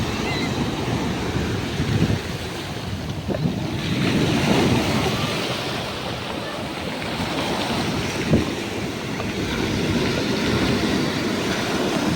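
Surf washes onto a beach in Muscat, Oman, a steady broadband rush of waves with wind buffeting the microphone and a few louder swells.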